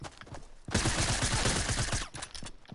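A loud, close SMG burst in a video game, a rapid rattling stream of shots lasting over a second after a quieter lead-in, then fading to softer game sounds.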